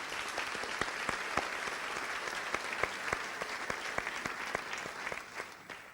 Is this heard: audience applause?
yes